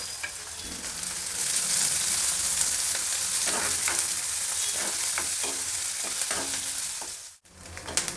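Chopped onion and two green chillies fry in a couple of teaspoons of oil with mustard seeds, a loud continuous sizzle with scraping stirs of a spoon, briefly cut off near the end.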